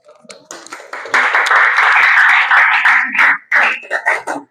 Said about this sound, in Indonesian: Oke, kasih tepuk tangan.